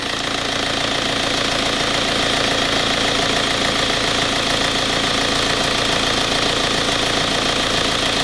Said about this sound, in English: Listen, the engine is running great.